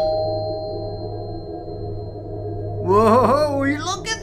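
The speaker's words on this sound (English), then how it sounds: "That sounds like my doorbell." A steady electronic tone hums faintly, then a voice breaks in with sliding, expressive sounds; no clear two-note chime stands out.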